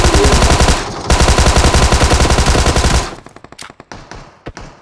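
Automatic weapon fire in a video game, a loud, dense burst of rapid shots lasting about three seconds, followed by scattered single shots and sharp impacts that are fainter and more spaced out.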